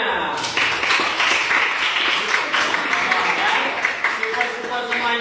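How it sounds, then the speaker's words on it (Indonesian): A classroom group claps together, a loud, dense burst of hand clapping that starts abruptly and continues steadily, close by, with a voice faintly mixed in. "tepuk tangan untuk kita semuanya"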